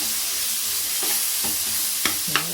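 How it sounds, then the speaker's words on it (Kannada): Spices tempered in hot oil for horse gram sambar give a steady, close sizzle, with a few sharp clinks from stirring near the end and no voices. "ಒಗ್ಗರಣೆ ಮಾಡಿಕೊಂಡು."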